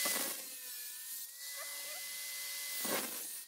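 A grinder cuts through a wire clothes hanger with a loud, close, bright whine that holds steady for about three seconds. It rises and falls at the start and end of the cut.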